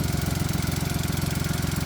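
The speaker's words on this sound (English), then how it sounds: "It's got a little 3-cylinder VW engine." A small three-cylinder Volkswagen car engine idles close by with a steady, slightly uneven low throb and rapid rhythmic pulsing.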